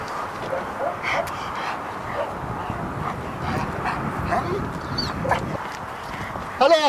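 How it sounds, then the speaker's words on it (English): Trained protection dogs bark, yip and whimper repeatedly at close range in a busy stretch of agitated barking, with a voice briefly audible near the end. "a quick clip of what Joe's dogs are capable of doing"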